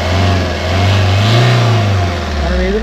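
A Maruti Ertiga car at a live vehicle auction, its engine running and revving in a loud, steady mid-pitched drone that swells and eases over a few seconds, close by with no voices.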